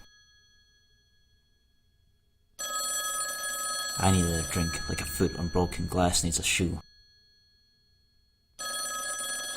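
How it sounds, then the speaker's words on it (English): An old-fashioned telephone bell rings in steady bursts, with silent gaps between the rings, while someone talks over part of the ringing. "The phone was ringing."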